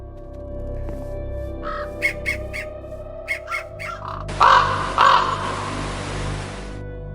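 Raven mob from a Minecraft Bedrock addon, a run of harsh cawing calls in short groups over a low background, then two louder squawks inside a burst of broadband noise.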